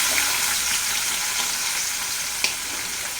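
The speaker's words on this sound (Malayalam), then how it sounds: "എണ്ണ ചൂടായി കഴിയുമ്പോൾ ഇത് ഉള്ളി, പച്ചമുളക്," Onions and green chilies frying in hot coconut oil in a pan for okra pachadi, a steady close crackling sizzle with one brief clink midway.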